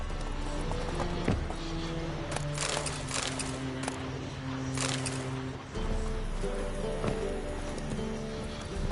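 Horse hooves clip-clop in scattered, irregular steps over a busy soundscape from The Witcher video game, with sustained musical tones underneath.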